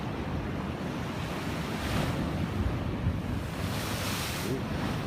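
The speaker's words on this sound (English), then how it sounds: "Out here catching some waves." Ocean waves break at Ocean Beach in San Diego, a steady roaring wash of surf with swells cresting about every couple of seconds, mixed with gusty wind noise on the microphone.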